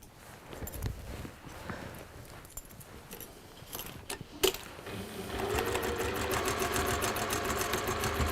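A sewing machine starts up after some quiet handling clicks and rattles, then runs as a steady rapid stitching whirr across fabric, close and moderately loud.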